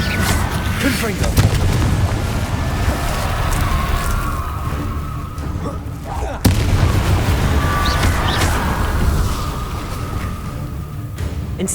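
Confringo fire-spell blasts in the Hogwarts Legacy video game, producing sustained booming explosions with a deep rumbling roar, one sharp crack midway followed by another surge, loud and continuous throughout.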